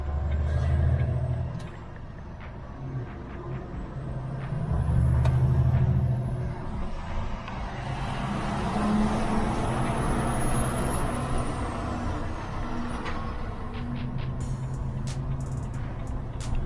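A heavily loaded lorry pulls away and accelerates gently, with a steady low engine drone throughout, an air brake hiss near the start and a few brief mechanical clicks and knocks near the cab.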